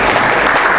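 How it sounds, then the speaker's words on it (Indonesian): A brief, loud burst of classroom applause lasting under a second, dense clapping close by. "Tepuk tangan dulu nih"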